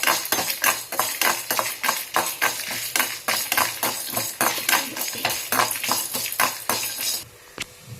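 Dry coriander seeds, cumin and peppercorns rattle and scrape in a pan with garlic and dried red chillies as a spoon stirs them in quick, repeated strokes, steady and fairly close, before stopping abruptly near the end.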